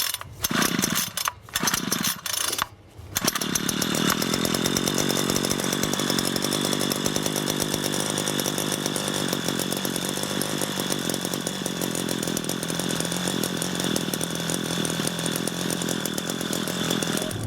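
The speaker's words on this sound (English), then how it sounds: "then we'll give a couple of tugs on the old recoil, and we'll see if she'll start for another season" A small engine is pull-started on its recoil starter: a few rasping tugs on the cord, then it catches and settles into a loud, steady buzzing idle that runs on alone.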